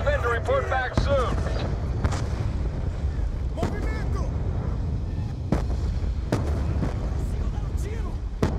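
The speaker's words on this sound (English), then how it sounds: "The mortars have stopped!" Mortar fire in the video game Call of Duty Black Ops 2: repeated booming impacts land every second or two over a constant low rumble, while voices speak over the battle.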